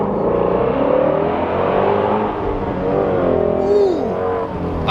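A Lamborghini Aventador engine holds a loud, rising and falling rev close by, a sustained roar with whirring pitch sweeps as the car is pushed hard.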